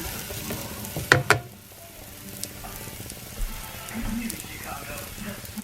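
Tortillas frying in oil in a pan that is not fully hot give a soft, steady sizzle, broken early by two brief clattering knocks, with faint kitchen noise underneath.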